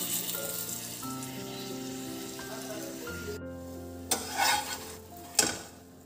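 Sweet potato parathas fry in oil in a pan with a soft sizzle under steady humming tones. A few clattering scrapes of a spatula come near the end.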